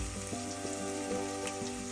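Faint sizzle as curry leaves hit hot oil while a Kerala anganwadi-style pulav is cooked, a soft, steady frying crackle with small pops.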